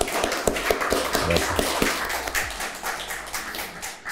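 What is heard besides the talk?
audience applause for an actor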